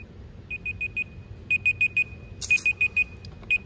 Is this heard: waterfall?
no